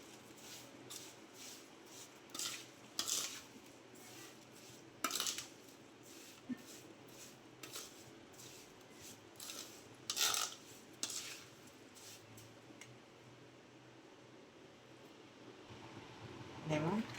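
Spoon scraping and clinking against a bowl while garlic, raw mango, chickpea and fenugreek pickle ingredients are stirred together, in soft repeated strokes with sharper clinks every second or two, under a woman's speech.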